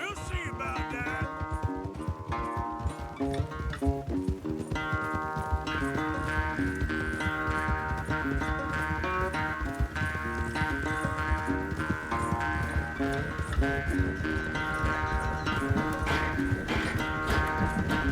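Horse galloping in the video game Red Dead Redemption II, a steady clip-clop of hooves carried under dense sustained music with voices throughout.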